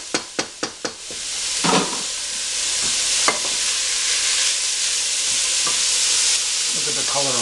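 Garlic, red and green peppers and celery sauté in a pan, opening with a few sharp taps then a loud, steady sizzle with spoon scrapes and stirring, no voices.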